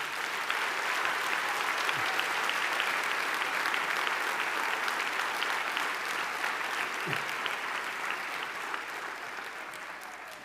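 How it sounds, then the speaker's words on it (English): Sustained applause from a large audience at a university graduation ceremony, steady and full for the whole stretch, fading slightly toward the end. "Can we give a round of applause to all our graduates,"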